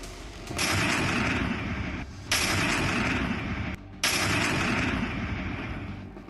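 Heavy gunfire and blasts during an army encounter operation in Kishtwar, a loud continuous roar of shooting and explosions broken by two brief sharp cutoffs, with no voices.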